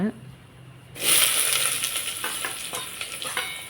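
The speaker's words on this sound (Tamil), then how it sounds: "வெங்காயத்தை நல்லா வதக்க விடுங்க." Onions frying in hot oil with popping mustard seeds: a bright, loud sizzle erupts at once after a quiet start and continues steadily with small crackles, a voice faintly present at the very beginning.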